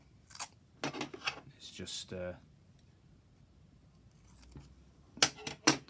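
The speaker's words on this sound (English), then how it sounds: "my method just involves masking tape and a pair of scissors" Scissors snip masking tape in several short, crisp cuts, near and quiet, with a brief spoken word between them.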